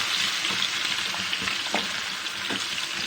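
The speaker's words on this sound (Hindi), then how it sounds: "जिंजर गार्लिक पेस्ट भी हम थोड़ा सा इसमें फ्राई कर देंगे" Ginger garlic paste fries with onions in a hot pan, giving a steady, dense sizzle that runs throughout, with a few faint stirring scrapes and no voices.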